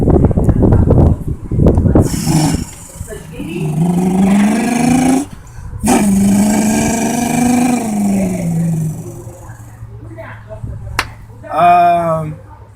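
A voice imitates a four-cylinder Camaro engine with a loud, growling hum that rises and holds, then drops into a second sustained revving run, followed by a brief burst at the end.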